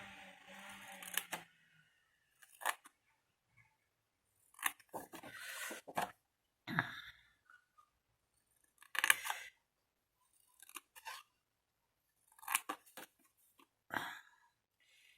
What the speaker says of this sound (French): vous coupez chaque morceau et vous épointez les carrés qui sont des onglets de collage